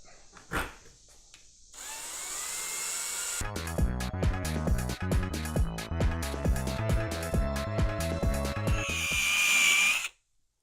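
A lubricated 3M foam pad on a power tool polishes a car headlight, running steadily for about eight seconds with a rhythmic, pulsing whir and faint dog-like barks before the motor winds up and stops abruptly.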